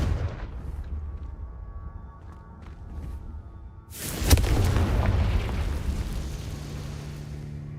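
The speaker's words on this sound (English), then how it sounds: "Confringo." A Confringo fire spell in Hogwarts Legacy goes off with one sudden, loud blast that rolls into a long rumbling roar and fades slowly, after a quieter stretch of ambient game sound.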